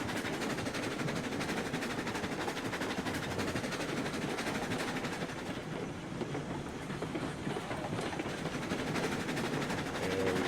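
Locomotive hauling side dump hopper cars to a gold mine in the video game RailRoads Online, a steady rumbling, rattling roll with rhythmic clickety-clack of wheels on rail joints, loud and continuous throughout.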